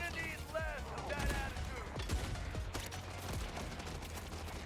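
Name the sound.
turret gunfire in the video game Borderlands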